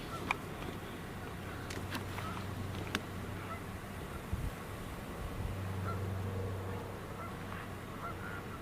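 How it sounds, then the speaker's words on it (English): A great blue heron gives a few brief, harsh calls at a distance over steady outdoor wind and ambient noise during a live wildlife stream, faint and sporadic. "I hear a great blue heron."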